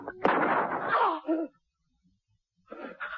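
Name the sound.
gunshot in a radio drama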